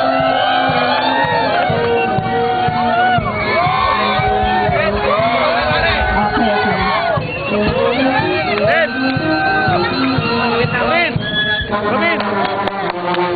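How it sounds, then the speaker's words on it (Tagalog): A loud crowd at a company mini olympics sports event shouts and cheers, with many overlapping voices filling the whole stretch. "Sigaw po kayo para hindi naman tayo masantuod."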